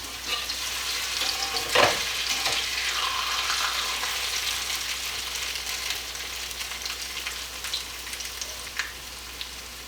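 Hot water cornbread batter fries in a pan with a steady, close crackling sizzle, a brief louder pop of spattering near the start, then an even hiss holding on alone to the end.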